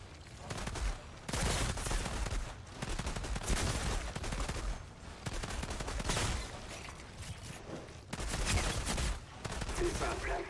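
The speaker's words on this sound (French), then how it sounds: "Arme de poing." Bursts of handgun fire from the sci-fi shooter Outriders come in dense, repeated volleys separated by brief pauses, loud and close, with some talk in the background.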